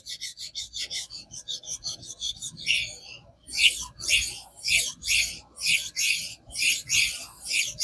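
A knife stroked across a King whetstone, with rhythmic rasping passes, quick short strokes at first, then longer, heavier scrapes in a steady back-and-forth pattern.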